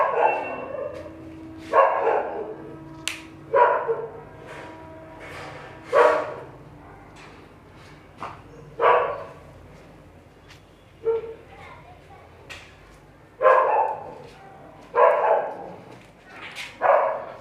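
Dogs bark outside near a home study area in a series of about a dozen sharp, loud barks at irregular intervals, some clustered in pairs, with faint background voices between them.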